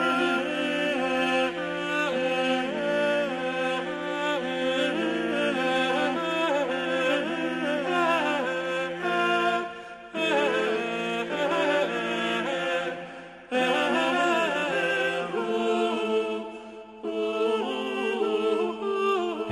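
Classical music excerpt with sustained layered instrumental harmony across a wide range, played loud and continuous with brief dips and pauses near the ten, thirteen and seventeen second marks; no talk.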